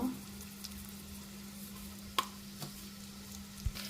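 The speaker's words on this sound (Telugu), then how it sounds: "సో ఈ పోపు బాగా వేగాలన్నమాట పోపు అయితే వేగుతుంది" Mustard seeds, cumin, dried red chillies, asafoetida, curry leaves and garlic cloves frying in hot oil for a mango pickle tempering, a steady soft sizzle with a few sharp pops and crackles.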